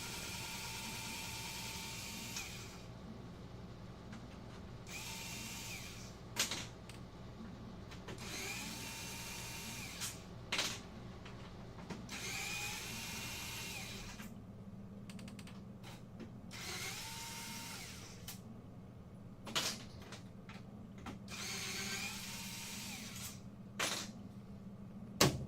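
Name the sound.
removing black screws from a case with a power screwdriver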